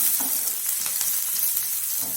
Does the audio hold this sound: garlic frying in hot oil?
yes